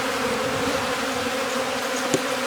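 Honey bees crawling on a hive frame, a dense, steady buzzing hum held close and continuous, with a faint tap near the end.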